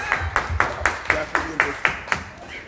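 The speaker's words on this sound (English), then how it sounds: "Clap, please. Clap." Steady hand clapping from an audience, about nine evenly spaced, crisp claps in a regular rhythm, with a low voice murmuring underneath.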